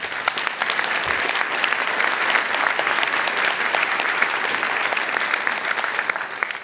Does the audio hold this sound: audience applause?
yes